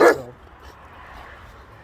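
A single loud, close dog bark at the very start, then quiet background with faint rustling and no further barking.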